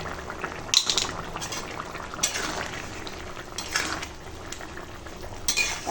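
Spoon stirring fried eggs and garam masala into a bubbling potato and soybean egg curry in a pan, with repeated metal clinks and scrapes over a soft, steady simmer.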